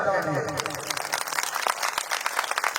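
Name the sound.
audience clapping with both hands raised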